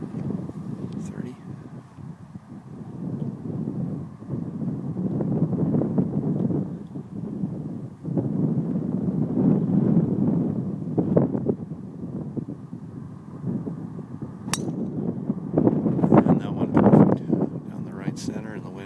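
Gusting wind buffets the microphone on a golf course during a match play final, a low rumbling roar that swells and eases over murmured voices.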